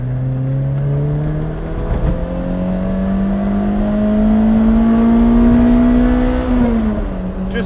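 A Lotus Elise sports car driving, its engine drone rising steadily in pitch as it accelerates through a gear, then dropping briefly near the end; close, continuous and loud with no talk.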